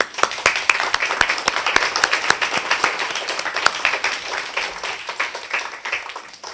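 An awards ceremony crowd gives a burst of applause, with dense, close clapping that continues steadily and then thins out toward the end.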